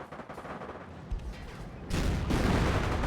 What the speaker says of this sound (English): And that is a miss on an AT gun